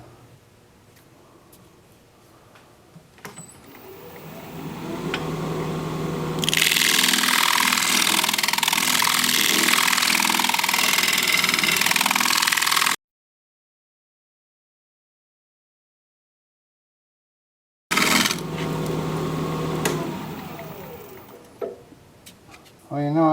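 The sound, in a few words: wood lathe scraping a cork oak bowl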